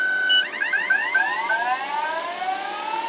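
Denford Orac CNC lathe spindle motor starting and running up to 2000 RPM for a facing pass on a brass bush, a whining tone with stacked harmonics sweeping in pitch as it gains speed, steady and close with no talking.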